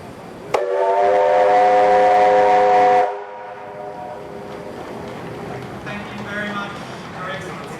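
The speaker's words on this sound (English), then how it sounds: "3801 blowing its whistle to officially relaunch the locomotive" The whistle of steam locomotive 3801 in New South Wales blasts in one steady, harmonically rich tone for about two and a half seconds at its relaunch, then cuts off, leaving crowd murmur and distant voices.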